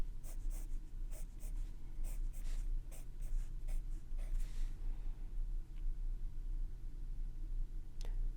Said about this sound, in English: I'm just going to draw where I want to put feathers with straight lines